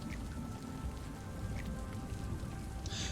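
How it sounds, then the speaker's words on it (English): Rain falls steadily in a park-building video game, a dense, even patter that fills the whole stretch with no talking. "The rain is kind of ruining it."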